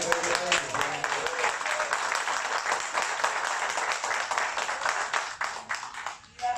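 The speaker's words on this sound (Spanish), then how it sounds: "Iglesia, démosle un aplauso." A church congregation gives a sustained burst of dense clapping that goes on for several seconds and then tapers off toward the end.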